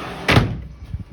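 A door is shut with a single quick thud, loud and close, followed by a short rattle of the frame and then quiet.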